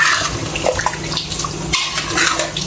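Water pours steadily into mutton pieces in a cooking pot for mutton curry gravy, a continuous close splashing stream.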